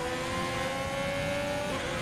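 A race car in F1 2020 sliding over a kerb, a steady loud engine drone with tire and road roar running continuously throughout.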